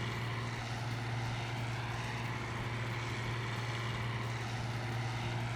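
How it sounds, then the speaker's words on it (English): A propeller airplane passes by in the Farming Simulator 13 video game, a steady loud engine drone with a low hum, continuous throughout and heard alone. "there's a plane out the window coming by"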